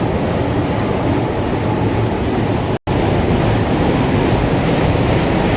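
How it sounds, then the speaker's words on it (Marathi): A Mumbai suburban local train rumbles along loudly and steadily between Kopar and Vasai, a constant roar of wheels and carriage noise with one brief dropout midway. "आपण कोपरवरून वसई ट्रेन पकडणार आहे"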